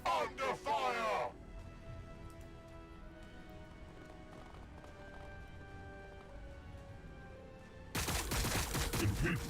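Rapid gunfire bursts from the Warhammer 40K Battlesector video game, loud and dense at the start, then a quieter stretch of game ambience, with another loud volley of shots at the end.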